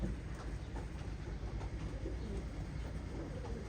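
Racing pigeons in a loft coo softly, low murmuring calls over a steady rumbling background, no voices.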